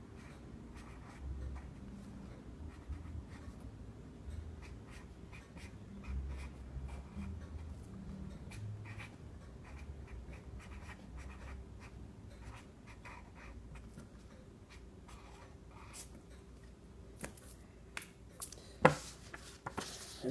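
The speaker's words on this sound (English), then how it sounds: "I'm going to sign her name for her anyway" A pen writing a signature on paper, with soft, close scratching strokes in short bursts over a quiet background, and a few sharper taps near the end.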